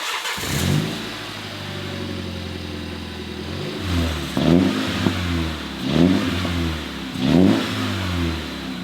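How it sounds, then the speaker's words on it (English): A MINI's exhaust in normal mode idles with a low burble, then three sharp revs rise and fall at steady intervals, each blip loud and close. "So here's what the exhaust sounds like in normal."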